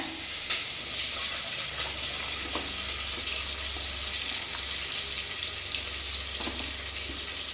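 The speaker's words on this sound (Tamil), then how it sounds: "அடுத்தது வெங்காயம் போட்டுக்கலாங்கண்ணே." Onions fry in oil in a pan, giving a steady close sizzle with occasional faint clinks, no talking over it.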